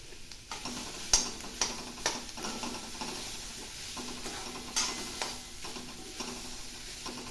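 A spoon scrapes and knocks against a pan while coconut kozhukattai filling is stirred over a low flame, with irregular clinks over a soft, constant sizzle and no talking.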